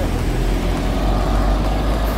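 A car drives away after being loaded, a close, continuous low engine and road rumble that holds steady throughout.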